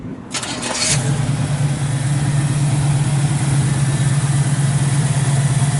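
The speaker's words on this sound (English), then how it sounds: "Good running little motor in this thing. Got a mild cam." A 1962 Chevy II Nova with a mild cam fires up with a brief starter whir, then settles into a steady, loud, close idle with a low rhythmic rumble.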